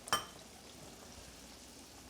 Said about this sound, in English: So it's sizzling, so I now- would lower the flame a bit.